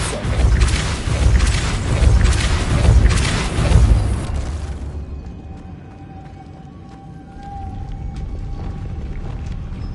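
The Depulso spell in Hogwarts Legacy lets out a loud, booming whoosh that rumbles for several seconds. The blast then cuts off abruptly, leaving quieter ambient game tones.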